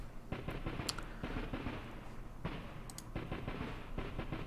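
Bursts of medium machine gun fire in an ASL war video game, rapid rattling shots mixed with heavier explosive thuds, fairly faint and continuous over the whole stretch.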